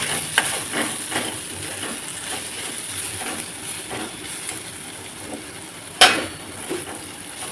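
Spoon stirring spice powders, garam masala and onion-garlic chutney as they sizzle in a pan, with a steady frying hiss, scraping strokes and one sharp metallic clank near the end, no talking.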